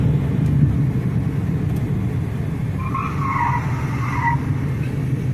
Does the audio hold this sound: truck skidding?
yes